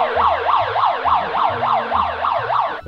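Siren sounding at night inside a trampoline park: a loud, fast, rising-and-falling electronic wail that repeats steadily, close and alone.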